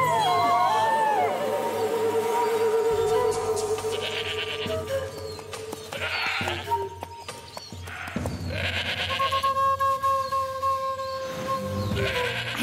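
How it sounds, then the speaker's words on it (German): A sheep bleats in a forest in an animated cartoon, with several wavering bleats close by over background music and effects. "Ein Schaf hier im Wald, das ist nun wirklich seltsam."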